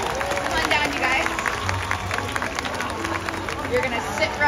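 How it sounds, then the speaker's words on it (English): Steady applause and clapping from a crowd at an orca show at SeaWorld San Diego, with cheering and babble mixed in throughout. "Everyone give them a big round of applause."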